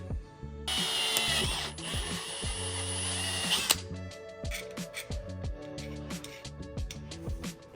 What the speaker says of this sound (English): What I lack in a hacksaw, I make up for with this awesome center hole punch.